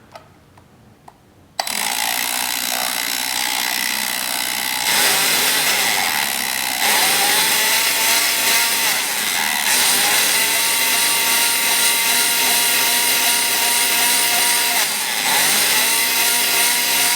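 A drill starts abruptly and whirs at a constant high pitch while spooling VHS-C tape onto a VHS reel, a loud steady motor drone with slight shifts in tone, preceded by a few quiet clicks.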